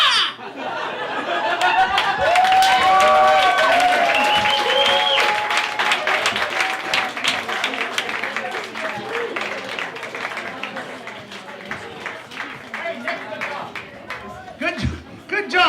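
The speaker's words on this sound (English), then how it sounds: "give a round of applause" A comedy festival audience claps and cheers for a comedian, loud sustained applause with scattered laughter and crowd chatter, gradually thinning toward the end.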